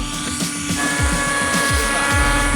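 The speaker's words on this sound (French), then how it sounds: "c'est un hélicoptère, mais thermique, avec un petit moteur à essence" A model helicopter with a small petrol engine buzzes loudly and close, its rotor chopping in a fast, steady rhythm over a raspy engine whine.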